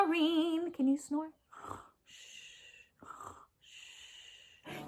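A voice imitates snoring with several breathy, raspy snorts and drawn-out wheezing breaths, separated by short silences. It follows a brief stretch of sung nursery rhyme, and the imitation is faint and close.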